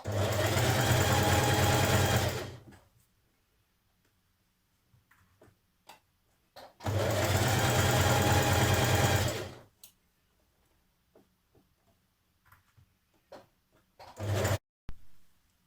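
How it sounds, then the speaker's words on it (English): A sewing machine stitches the neckband of a jersey dress in two loud, close bursts of a few seconds each, separated by quiet clicks and handling taps, with a short third run at the end. "Stitch it in place the whole way around."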